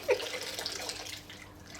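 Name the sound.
warm water poured into a tub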